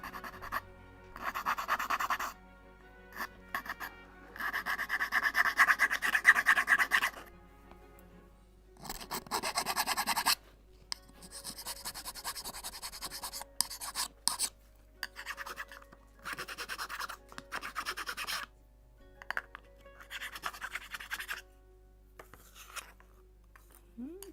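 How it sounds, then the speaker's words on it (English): Small wooden parts of a 1:76 scale Mayflower (1620) model ship kit by Model Shipways are sanded by hand in repeated bursts of close, raspy scratching and rubbing, separated by short quiet pauses. "One more sanding."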